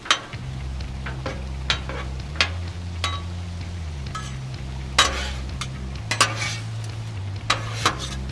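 Par-cooked potatoes fry on a Blackstone griddle in a steady sizzle, punctuated by sharp metallic scrapes and taps of a spatula every second or so, close and clear with no talking.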